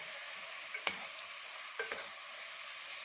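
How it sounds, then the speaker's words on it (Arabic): Chicken sautés in a pan with black pepper, giving a soft, continuous sizzle with a couple of brief stirring clicks and scrapes, all fairly quiet and with no talking. "ونسيب ده كله كده يتشوح مع بعضه"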